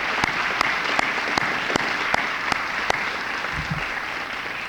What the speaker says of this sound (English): Let's give our top 20 students a round of applause.